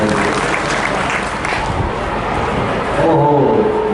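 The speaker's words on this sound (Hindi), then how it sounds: "जोरदार तालियां बजा दीजिए।" Crowd applause at an outdoor political rally, a steady wash of clapping that fills the whole stretch, with a loudspeaker voice and some tonal sound rising near the end.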